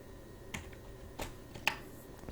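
A few isolated keystrokes on a computer keyboard while sales figures are entered into an Excel stock sheet, quiet separate taps spaced apart over a low room hum.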